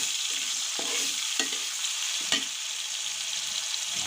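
Coral fish curry with chopped tomato stirred and fried in a pan, a steady close sizzle with a few sharp scrapes of the spoon against the pan, no voices.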